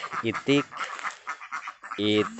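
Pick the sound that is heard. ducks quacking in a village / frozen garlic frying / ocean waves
ducks quacking in a village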